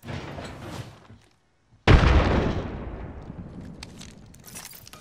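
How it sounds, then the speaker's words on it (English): A frag grenade explodes in Apex Legends, a sudden loud boom after a short quiet gap that rolls off into a long, fading rumble. "Frag grenade sent."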